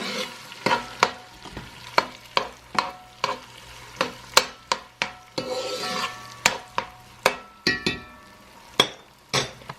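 Fresh garlic, about two heaping tablespoons, frying in oil for a homemade marinara, with a steady sizzle broken by repeated sharp scrapes and clinks of a utensil stirring against the pan, close and fairly loud.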